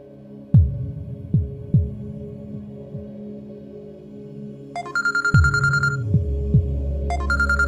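A telephone rings in a television drama scene, its electronic ring starting partway in and returning near the end, over low background music and dull thumps.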